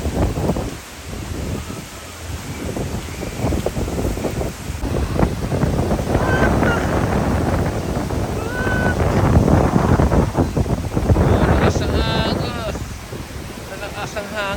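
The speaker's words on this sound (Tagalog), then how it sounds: "Malakas ang hangin, guys," Strong wind on Boracay buffets the microphone with a loud, steady roar of rumbling gusts, and people talk over it now and then.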